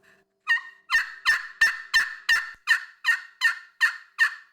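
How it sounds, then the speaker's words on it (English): Hand-held turkey call worked in steady yelps, a string of about eleven loud, evenly spaced raspy notes sounding close and alone. "begin to yelp on it"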